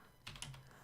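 A web address goes into a browser on a computer keyboard as a couple of soft, quick key taps, close by but faint, with no talking.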